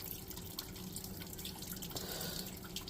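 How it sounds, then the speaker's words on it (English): Water runs and drips over rock matrix being washed for tiny crystals from Cedar Butte, a steady close trickle and splash with no speech. "washing through some matrix to look for tiny little crystals"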